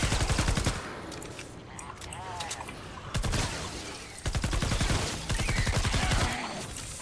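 Rapid bursts of automatic gunfire in the Fortnite Save The World game, loud and close, coming in several volleys separated by short pauses.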